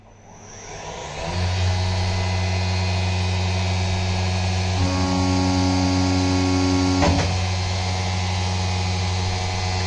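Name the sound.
CNC machine roughing cut while building a 5th axis trunnion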